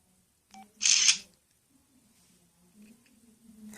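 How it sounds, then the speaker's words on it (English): A Samsung SCH-U340 phone camera takes a selfie, giving a single brief electronic shutter click followed by quiet room tone. "let's take a selfie"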